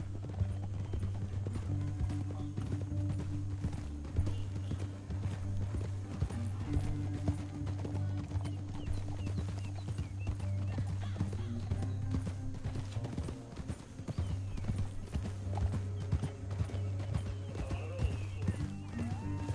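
Rapid clip-clop of several horses' hooves at a gallop in Red Dead Redemption 2, continuous and fairly close, over a low steady rumble.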